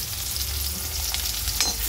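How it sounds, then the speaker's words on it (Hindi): Chopped onion hits hot oil in a pan for macaroni, producing a loud, constant close sizzle with a few sharper crackles and pops near the end. "तेल हमारा गर्म हो चुका है, तो हमने थोड़ा सा प्याज डालना है।"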